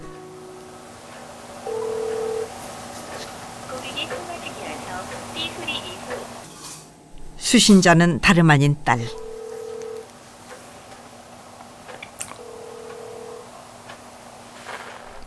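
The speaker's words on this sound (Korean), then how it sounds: "혹시나 하는 마음으로 기다려보지만 신호음만 계속됩니다" A phone call rings out unanswered, the repeated ringback tone sounding in short bursts between pauses, with a brief burst of keypad dialing tones in the middle and a narrator speaking over the quiet night-time scene.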